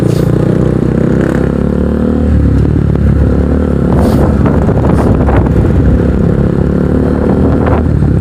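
Kawasaki NS150 motorcycle fitted with an Akrapovic exhaust revving close by outdoors, a loud steady engine drone with brief rev spikes under heavy wind buffeting on the microphone.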